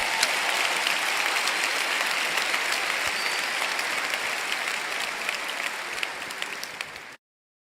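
A church congregation at the Congreso del Siglo 2019 conference claps loudly for about seven seconds, a thick, even wash of many hands that thins slightly toward the end before it cuts off abruptly.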